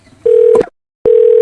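A telephone gives two sustained dial or keypad tones separated by a short silence, with a brief click between them, loud and close with no talk.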